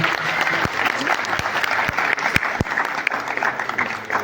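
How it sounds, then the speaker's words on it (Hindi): Audience applause during a stage play team introduction, sustained clapping with a few sharp individual claps standing out, with voices mixed in underneath. "उनके लिए भरपूर तालियां होनी चाहिए।"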